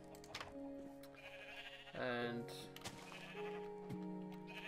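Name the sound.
sheep bleating in the video game Minecraft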